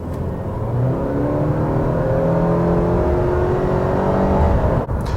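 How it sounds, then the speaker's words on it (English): A Subaru Crosstrek's engine rises under acceleration from inside the cabin, a loud steady drone with climbing engine tones through gear changes, then a brief drop near the end. "I'm gonna give it a little bit of acceleration."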